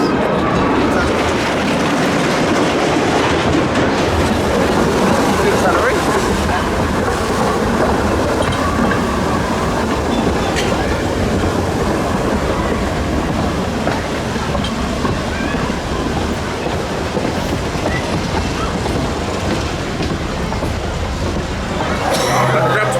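The Pleasure Beach Express miniature train at Blackpool Pleasure Beach rumbles along steadily at sunset, with continuous close track noise and clickety-clack under a busy amusement-park din, and a voice talking faintly at times.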